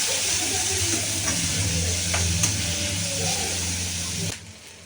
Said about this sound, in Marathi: आता आपण कांदा टाकून घेऊ त्यामध्ये आणि कांद्याला छान लाल रंग येऊपर्यंत परतून घेऊ